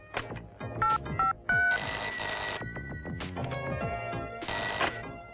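An old-style telephone bell rings loudly in repeated bursts, with clattering tones between rings and no talking.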